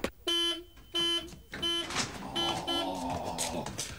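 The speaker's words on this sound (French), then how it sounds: "Mais qu'est-ce qui peut bien klaxonner comme ça?" Three sharp, evenly spaced honks of a car horn ring out, followed by a jumble of overlapping horns and other noise.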